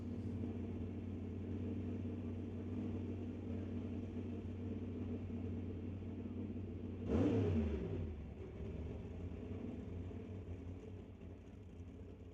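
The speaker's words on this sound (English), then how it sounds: "Turbo spooling up." Drag car on a test-and-tune pass, engine rumbling steadily then building with a sudden sharp swell around the middle as the turbo spools up, fairly distant, fading back to a lower roar afterward.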